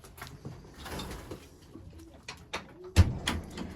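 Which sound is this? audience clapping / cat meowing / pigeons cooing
pigeons cooing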